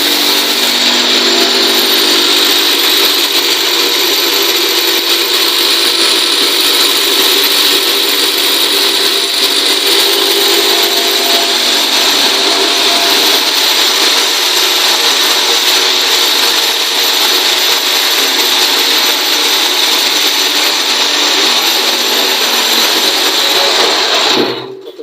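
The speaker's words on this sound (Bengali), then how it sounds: "এই যে আমাদের মেশিন এখন ব্লক তৈরি করবে" A concrete block making machine runs with a loud, steady mechanical hum and grinding rattle that holds constant, cutting off abruptly at the very end.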